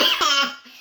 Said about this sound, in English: So the coughing fit is over.